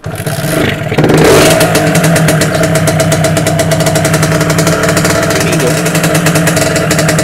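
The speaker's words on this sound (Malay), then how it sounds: "Dah. Try start motor. Jadi kita try dengar bunyi motor ni" A motorcycle engine fires up and settles into a loud, steady running roar with a buzzy rhythmic pulse, close by and continuous, without any voices.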